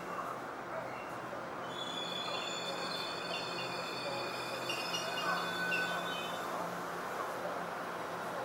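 A Hello Kitty-themed train idles at a station minutes before departure, giving a steady low rumble with faint high whines and hiss, heard from close by without speech.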